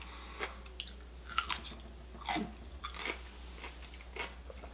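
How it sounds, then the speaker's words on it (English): Close, quiet crunching as someone bites and chews dill pickle spears, a few sharp crunches followed by softer irregular chewing. "Can you hear the crunch?"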